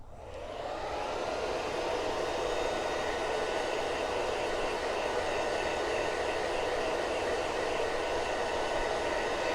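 A hair dryer blows over chalk-and-coffee paste paint on a bunny pail, a steady broadband rushing hum that swells in within the first second and holds loud and even throughout, with no talking.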